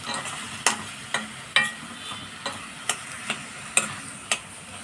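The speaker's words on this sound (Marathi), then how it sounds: "सर्व साहित्य त्यामध्ये मिक्स करून घ्यायचं वांग्यामध्ये कोथिंबीर टाकून घेतली" Mashed eggplant bharit with plenty of chopped coriander being stirred in a pan, a spoon scraping and clacking against the vessel in about ten irregular sharp strokes over a soft steady hiss.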